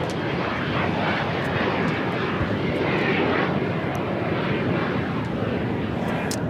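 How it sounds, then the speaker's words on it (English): A Japan Airlines Boeing 787 Dreamliner jet at LAX makes a loud, steady, broadband engine roar that holds without break throughout, with no talk over it. "Looks like that Japan Airlines Dreamliner heading into the southwest corner of Tom Bradley"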